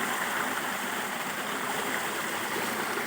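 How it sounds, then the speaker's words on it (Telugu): Water tumbling over a rocky hillside waterfall near Kurnool, a steady dense rush that fills the whole clip without a break, close and loud with no voices. "చూడండి ఫ్రెండ్స్ వాటర్ ఫాల్"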